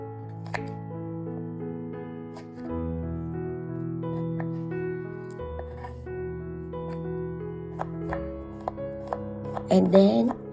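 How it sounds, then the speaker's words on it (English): A knife chops white spring onions into small pieces for a beef and vegetable stir fry, with sparse, crisp cuts on a board under steady background music and a brief cluster of sharper chops near the end. "I cut the white spring onions into small pieces."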